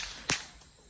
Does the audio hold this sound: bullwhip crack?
yes